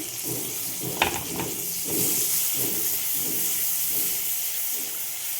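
Tomato goes into a pan of softened onions cooked in butter for chow mein, raising a steady, loud sizzle and hiss that carries on throughout.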